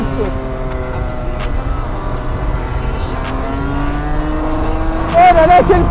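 A competition racing kart engine buzzes steadily as it laps a track, its pitch rising and falling through the run, loud and close, with a brief tire squeal near the end.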